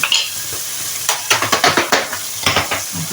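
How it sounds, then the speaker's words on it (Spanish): Pork cheeks searing in a pan give a loud sizzle broken by a run of sharp, rhythmic scrapes and stirring clatters. Nobody speaks. "Vamos a sellar nuestra carne."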